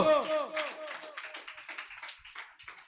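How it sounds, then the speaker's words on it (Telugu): A church audience at an evening pastor's message claps together, a burst of applause that thins out over a few seconds, heard after a voice at the start. "కొట్టో చప్పట్లో."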